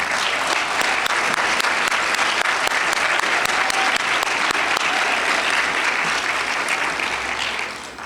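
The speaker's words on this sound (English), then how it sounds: "we'd like to give them a round of applause" An audience at a workforce and education summit claps for the chamber staff, a dense, loud wall of applause holding steady for several seconds before tapering off at the end.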